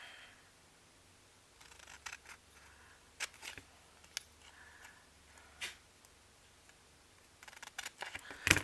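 Scissors cutting the top piece off a book page, a few quiet, sharp snips spaced apart, close and faint in a still room.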